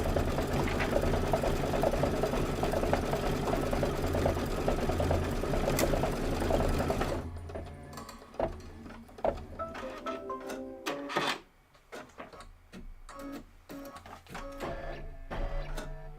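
An embroidery machine stitches a toadstool design, a steady fast mechanical whir for about seven seconds, then stops and gives way to scattered clicks, taps and handling sounds, fairly close and with no talking.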